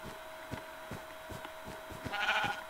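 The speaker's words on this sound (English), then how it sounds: "I'm not hurting these sheep, I'm just taking their wool." Sheep in the Minecraft video game bleat in a steady run of short, regular calls over a constant game hum, with a brighter louder bleat near the end and no talk.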